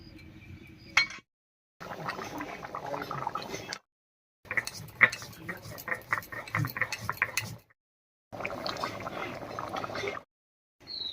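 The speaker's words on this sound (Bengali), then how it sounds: "আর এই ফাঁকে আমি গরম মশলাটা বেটে নিচ্ছি" Garam masala is ground by hand into a paste in several rough, rhythmic bursts of scraping and rolling strokes, each lasting a couple of seconds and separated by short silences.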